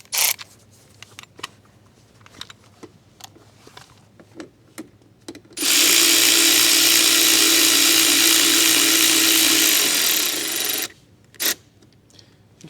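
A power tool with a 9/32 socket tightens the OEM bolt of a mud flap on a 2017+ Ford F-450. It gives one loud, steady whir lasting about five seconds, framed by scattered clicks and handling noises.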